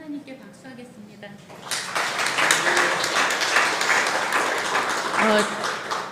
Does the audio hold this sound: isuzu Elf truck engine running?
no